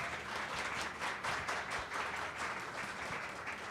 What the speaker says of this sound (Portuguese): Eu queria pedir palmas para eles